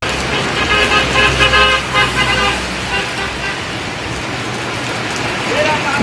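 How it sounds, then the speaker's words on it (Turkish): Car horns toot repeatedly over heavy summer rain and passing traffic on a road, loud and close, with the honking easing off toward the end. "Yağmur altında dakikalarca kalan Ergun'e yoldan geçen araçlar da kornaya basarak destek verdi."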